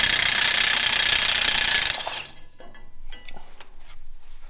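A loud, harsh rattling burst from a power impact tool spinning off a U-bolt nut on a GMC 3500 truck axle lasts about two seconds, then gives way to quieter metallic clinks and handling noise.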